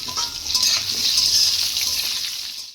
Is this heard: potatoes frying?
yes